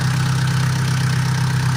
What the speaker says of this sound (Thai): เครื่องยนต์นิ่งมากครับ